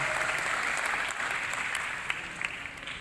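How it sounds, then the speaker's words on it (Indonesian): An audience applauds at a campus event, a dense steady clapping that holds strong and then tapers slightly with a few louder claps near the end, with no speech over it. "Sekali lagi berikan tepuk tangan yang sangat meriah."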